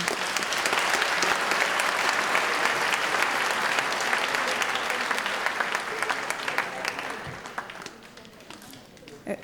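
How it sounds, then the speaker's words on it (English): A graduation ceremony audience in Pretoria applauds steadily and loudly, dense clapping filling the hall for most of the stretch before tapering off near the end. "Let's give a round of applause for all our graduates."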